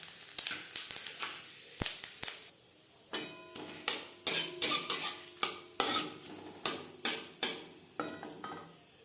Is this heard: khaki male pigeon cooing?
no